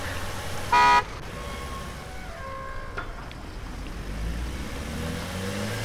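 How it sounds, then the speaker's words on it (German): A new car arrives in a recycling simulator video game, announced by a single short horn toot followed by a low engine rumble and faint mechanical sounds. No one speaks. "Oh, ich glaube, es gibt ein neues Auto, wa?"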